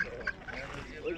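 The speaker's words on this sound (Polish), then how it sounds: "Kaczki są" Ducks quack at an outdoor market, with a few short nasal calls mixed under people's nearby talk.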